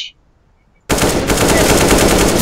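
Rapid automatic gunfire from a shooter video game erupts loudly after a near-silent start with a faint beep, continuing as a dense, sustained burst with no talk.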